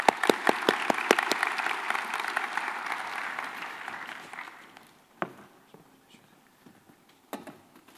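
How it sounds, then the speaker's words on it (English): Conference audience applauding as a speaker is welcomed onto the stage in Brisbane, opening with several sharp individual claps, then a full round of applause that fades out after about four seconds, leaving a few scattered claps and quiet room noise. "Please join me in a round of applause"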